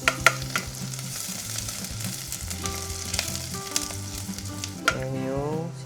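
Garlic sizzles in a hot pan with ginger already frying, a steady crackling hiss with occasional stirring scrapes during home cooking in an apartment kitchen.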